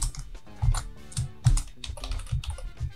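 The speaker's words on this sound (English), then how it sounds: "you can just go to the mel tab down here at the bottom and type it in" Short bursts of keystrokes on a computer keyboard as a command is typed into the MEL tab of Maya, uneven clicks and taps close up, with no talking.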